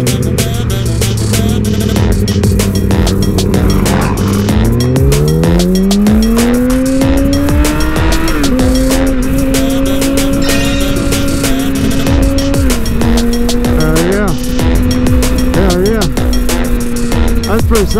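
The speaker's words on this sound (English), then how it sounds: "here's one of them little dirt bikes" A Honda CRF450RL dirt bike revs and pulls away, its engine note climbing and shifting pitch through gears, loud and close, with the tone sustained over most of the stretch.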